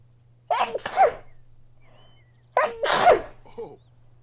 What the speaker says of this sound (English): I'm gonna sneeze, hang on